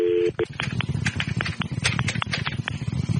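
A telephone being dialed in a radio studio, with a quick series of short, evenly spaced keypad tones after a brief steady tone, heard close and clear with faint background noise.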